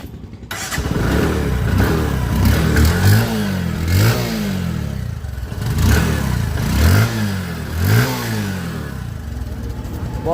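A second-hand Bajaj Discover 125 motorcycle engine is revved repeatedly up close, each blip rising and falling in a rhythmic series of about six revs over a steady idle.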